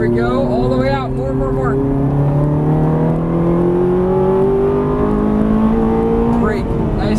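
Ferrari 430 on a race track, engine pitch climbing steadily in one long acceleration pull, loud and close, with an instructor's voice talking over it.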